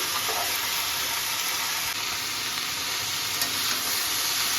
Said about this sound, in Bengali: লবণ দিয়ে ভালো করে নাড়াচাড়া করে নিলাম